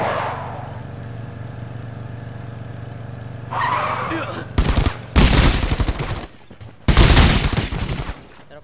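Gunfire in the battle royale shooter Rules of Survival: two loud, dense bursts of rapid shots after a quieter stretch of engine-like game noise, with a voice partly audible in the mix.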